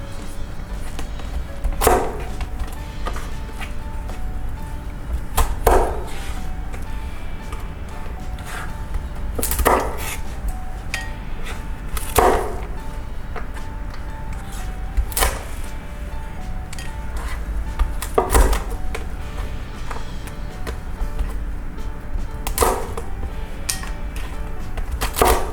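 Sharp snipping of kitchen scissors through Alaskan king crab leg shell, a handful of crisp cuts spaced a few seconds apart over a steady low background hum.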